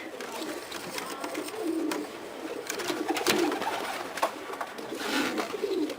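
Pigeons cooing softly in a rooftop loft, low murmuring calls repeating over steady rustle and background noise, fairly close but not loud.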